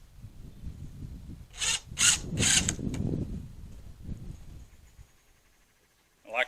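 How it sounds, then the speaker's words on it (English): Several short bursts of a power drill boring into wood while building egg mobile walls, close up and clustered over a couple of seconds, followed by quieter handling noise. "I go ahead and drill it out"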